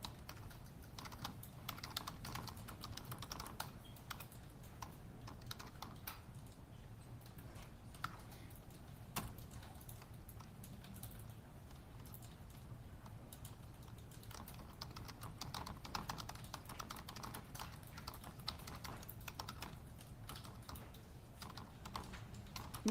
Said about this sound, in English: I wonder who's typing that loud.